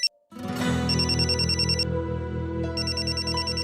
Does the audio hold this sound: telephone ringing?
yes